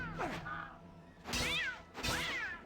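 A cat in Sphinx and the Cursed Mummy meows three times in drawn-out, rising and falling cries, loud and close with brief pauses between them.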